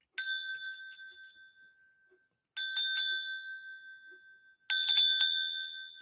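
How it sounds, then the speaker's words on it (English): A hand bell rings three times with pauses in between. Each bright metallic strike rings out clearly and then fades slowly in a quiet room. "have my handy dandy bell"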